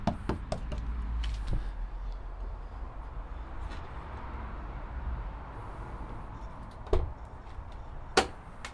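Two solid thuds of a stiff door on a 1960s Volvo 144 automatic, one near the end, over a steady low rumble of background noise.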